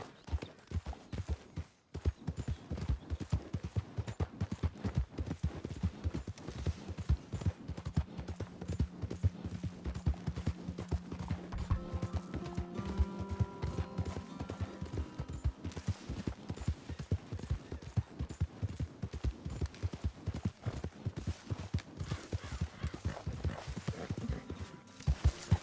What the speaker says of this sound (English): Careful with that horse, Arthur.